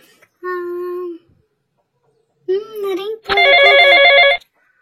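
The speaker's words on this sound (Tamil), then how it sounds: "ஓகே, வர்ஷாக்கு ஃபோன் பண்ணலாம்." A short electronic tone sounds, then a voice, then a loud warbling ring, like a phone ringing on a call.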